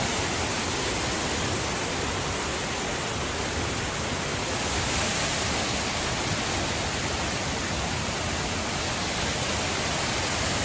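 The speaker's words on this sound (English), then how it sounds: "Nice waterfall and a fish ladder." A waterfall at a fish ladder on the Sincheon River, a dense, steady roar of rushing water that fills the whole clip, loud and constant with no voices.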